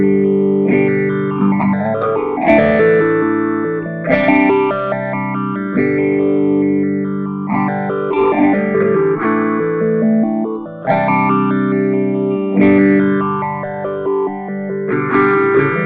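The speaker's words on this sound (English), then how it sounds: "you can create some really cool, unique styles of phaser effect" Distorted electric guitar chords ring out in repeating phrases through a BOSS PH-3 Phase Shifter pedal, swirling with a sweeping phaser effect that shifts the tone as they sustain.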